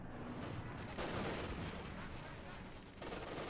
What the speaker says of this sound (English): Machine gun opening up.